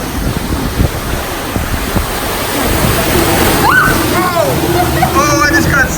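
Water rushes and splashes steadily around riders on the Calico River Rapids raft ride at Knott's Berry Farm, a close, loud wash with wind buffeting the microphone, while riders exclaim and shout over it.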